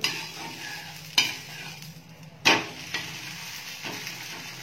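Thuthuvalai dosa cooking on a hot pan after being flipped, giving a quiet steady sizzle with a few sharp scraping or tapping touches of the spatula, no voices.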